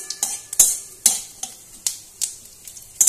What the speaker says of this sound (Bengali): যেহেতু তেল গরম আছে তাই ফোড়ন সঙ্গে সঙ্গে ভাজা হয়ে গেছে।